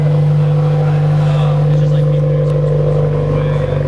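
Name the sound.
car exhaust rumble while driving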